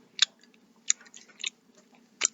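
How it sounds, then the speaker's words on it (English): Loud, close chewing during a Thanksgiving mukbang: several sharp, wet crunching bites spaced apart with quiet gaps between them, and no talking. "Why are you chewing so damn loud?"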